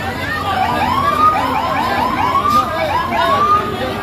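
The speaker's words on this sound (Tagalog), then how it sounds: "pinapalikas na lang po ng mga fire truck or ng mga fireman natin itong mga kanilang mga truck" Fire truck siren wailing in repeated rising and falling sweeps at a market fire, loud and steady over crowd and street noise.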